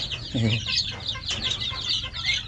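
Turkeys calling close by, a low warbling call followed by busy, higher-pitched poultry chatter continuing throughout.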